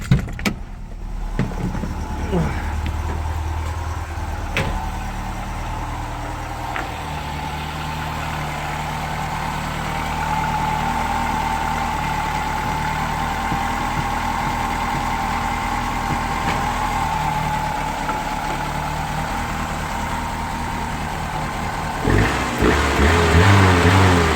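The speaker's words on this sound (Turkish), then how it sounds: "filtremin pardon hava kabinimin ucundaki parçayı çıkartmadan bir marş basacağım gazda." A car engine running on LPG is started and settles into a steady idle, a continuous mid-pitched hum with a few brief clicks near the start and some knocking at the end, close and alone.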